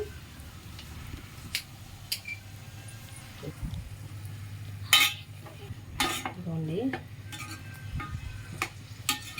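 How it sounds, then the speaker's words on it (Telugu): Onions fry in a pan for a Sunday curry, a soft steady sizzle running throughout with occasional clinks and scrapes of a utensil against the pan. "ఇవి రెడ్గా అయ్యే వరకు ఫ్రై చేసుకోవాలి అయితే ఫ్రై చేసుకుంటున్నాను"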